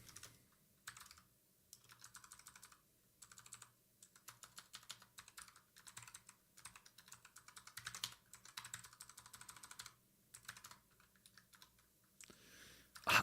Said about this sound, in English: I'm not very good at typing this.